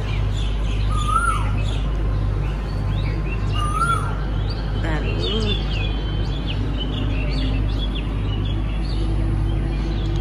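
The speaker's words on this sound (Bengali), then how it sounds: "কোয়েল পাখি ডাকে" A koel calls outdoors near a house among trees, its rising whistled notes repeating at moderate distance over a steady low hum, with other birds chirping faintly.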